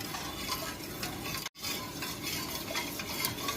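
A spoon stirs an ice candy mixture in a pot, making a steady swishing scrape with light clinks that carries on continuously with only a brief break.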